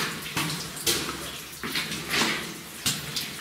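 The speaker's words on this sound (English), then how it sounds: "we got some water running out of the ribs there" Water trickling and splashing from the rock ribs inside an underground mine, a steady close wash of running water with irregular surges and splashes throughout.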